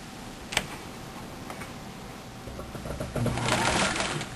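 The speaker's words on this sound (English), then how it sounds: "we're going to sew one shoulder seam together, right sides together" A sewing machine stitches a right-sides-together shoulder seam on a simple t-shirt, starting with a few sparse ticks and building to a steady, louder mechanical whir near the end, with no talking.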